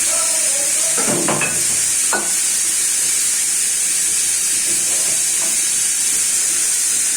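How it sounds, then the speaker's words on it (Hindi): Steam blasts continuously from a kitchen pressure cooker's valve during release, a loud, steady high hiss throughout, with a few faint clinks of utensils near the start. "हमने कुकर का प्रेशर भी रिलीज कर दिया"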